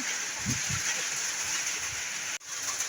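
Heavy rain pours down outdoors over a flooded street, a dense, even hiss that fills the whole stretch, with a few low thuds near the start and a brief dropout just before the end.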